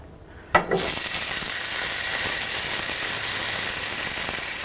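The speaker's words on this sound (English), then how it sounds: "I added oil and some butter to the pan. And I'm going to saute these for about 1 minute." A sudden clatter as food hits the pan, then loud, steady sizzling of mushrooms frying in oil and butter, close up and continuous.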